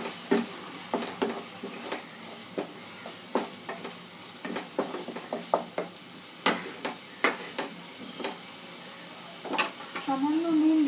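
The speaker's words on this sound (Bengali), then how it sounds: "সামান্য একটু জল দিয়ে দেবো মশলাটা কষিয়ে নেওয়ার জন্য।" Spice paste for a Bengali jackfruit and prawn curry stirred and fried in a pan, with a steady soft sizzle under repeated scraping strokes of the spoon, close and fairly quiet.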